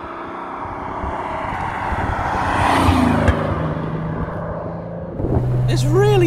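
A TVR Tamora sports car drives with its roof off, its engine a steady rumbling drone mixed with wind noise throughout, rising slightly in the middle, with a voice talking over it.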